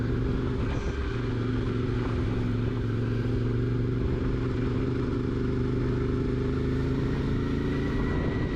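A motorcycle engine idles and revs continuously for several seconds on a roadside in New Zealand, a loud, close, steady rumbling drone with no talking over it.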